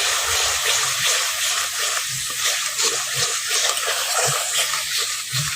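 Water is poured into a pan of cooking spice paste with cumin and coriander powder for an egg curry, producing a steady gushing hiss with faint sizzling and a few low knocks underneath.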